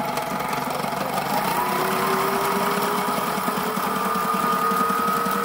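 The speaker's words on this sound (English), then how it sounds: "This one sounds like an industrial machine." A Sailrite walking-foot sewing machine stitches heavy marine upholstery, a steady, fast, industrial-sounding mechanical whir and chatter that runs without a break, close by with no talking.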